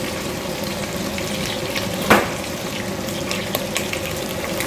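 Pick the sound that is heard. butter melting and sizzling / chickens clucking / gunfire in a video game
butter melting and sizzling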